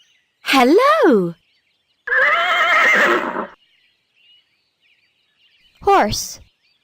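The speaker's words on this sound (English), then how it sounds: "Horse." A horse neighs in three loud, close whinnies with rising and falling pitch, separated by short silences, the middle call longer and rougher.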